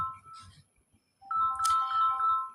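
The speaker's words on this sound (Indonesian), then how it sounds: "udah telepon, udah telepon nih, gak usah diangkat ya, jauh soalnya." A phone rings with an incoming call, its bright melodic ringtone playing in two bursts separated by a short pause, clear and close with no talking.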